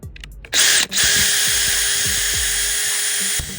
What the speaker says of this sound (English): you drill around the outside of the hole and you actually drill out the raw plug